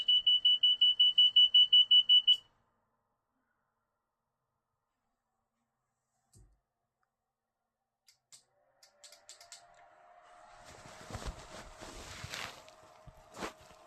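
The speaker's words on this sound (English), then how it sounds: "that's where the beeper is" A pedestrian crossing beeper on a traffic light gives a fast train of bright, evenly spaced electronic beeps for about two seconds, then stops. Silence follows, later broken by soft handling clicks and rustling noise.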